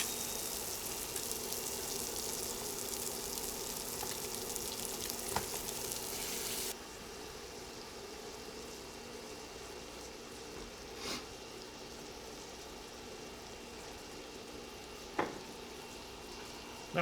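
Scallops sizzle in a hot pan for a sweet potato scallop dish, a steady broadband frying hiss that drops noticeably partway through, with a few faint clicks and taps over the continuous sizzle.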